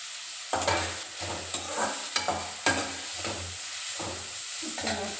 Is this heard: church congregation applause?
no